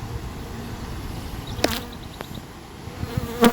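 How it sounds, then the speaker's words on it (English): Honeybees buzz around an open apiary hive box, a steady low drone with a few louder close passes of individual bees. "you can see why that lid is really helping us with the flightiness of these bees"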